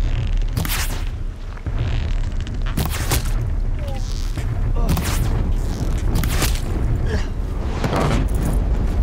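A machine in Horizon Zero Dawn fires on the player, with loud repeated bursts and booming impacts landing every second or two over constant combat noise.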